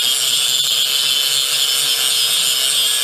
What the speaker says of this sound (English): now I'll just take it over there and I'll grind it